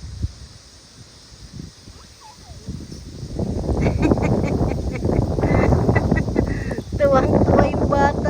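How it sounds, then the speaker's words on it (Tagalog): Gusty wind roars and buffets the microphone, swelling louder midway, with people talking over it. "Lakas ng hangin ah."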